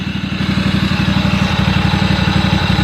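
A 1998 Craftsman GT6000 mower with a liquid-cooled Kawasaki FD590V engine idles close by, a loud, even, throbbing chug with a steady rhythm throughout.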